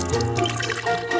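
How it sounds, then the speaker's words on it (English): Continuous close splashing and sloshing of water in the wild American Northwest, loud and steady with no voices. "Just a splash."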